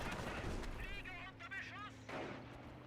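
Machine gun fire in a Company of Heroes battle with anti-tank rifle squads, faint rattling bursts under battlefield ambience and a talking voice.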